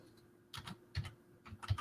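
One-handed typing on a computer keyboard, a few close, crisp key clicks arriving in small irregular bursts with short pauses between, no voices.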